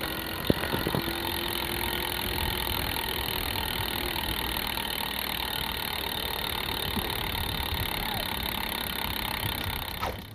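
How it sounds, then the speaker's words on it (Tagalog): Rear hub freewheel of a Colnago CRS road bike spinning, a steady fast ticking buzz that runs unbroken for about ten seconds before stopping abruptly. "Unahin na natin yung hub sound check para to complete this bike check."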